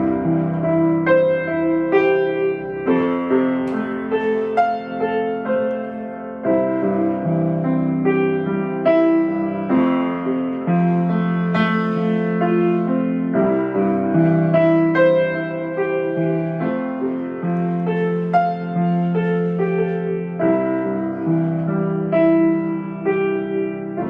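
A short, loud melodic piece built only from octaves, fifths and thirds plays continuously for about 24 seconds, with steady chord changes and no talking.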